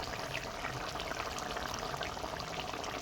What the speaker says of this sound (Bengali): এবারে আমি আগে থেকে গরম জল করে রেখেছিলাম, সেটাই দিয়ে দিলাম।